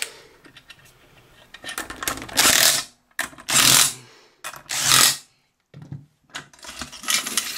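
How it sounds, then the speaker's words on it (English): Ratchet clicks from an OZ Lifting premium chain lever hoist, cover and nuts reinstalled after maintenance, as the lever is worked in the up direction: three loud bursts of clattering mechanism with quieter ticking between, close and with no talk. "in the up direction you hear it clicking"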